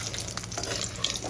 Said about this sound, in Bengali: আমি তেলের মধ্যে দিয়ে দেব কালো জিরে ফোড়ন।